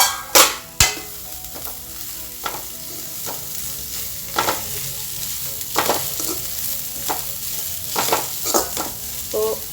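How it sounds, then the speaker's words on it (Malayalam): Cabbage thoran fries in a pan with a steady sizzling hiss while a spoon stirs it, giving repeated close scraping and knocking strokes at irregular intervals, loud and without any talking. "ഇനി ഇത് നന്നായിട്ട് ഇളക്കി കൊടുക്കുക."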